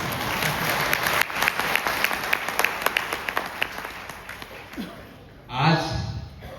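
Sustained audience applause at an anniversary celebration in India, dense crowd clapping that thins toward the end into a few distinct claps, followed by a brief burst of a voice speaking.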